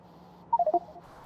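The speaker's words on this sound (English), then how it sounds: "It's probably going to keep beeping at us for a while." Four quick, clipped electronic beeps sound in close succession from a train station request in the factory-building video game Factorio, over a quiet background.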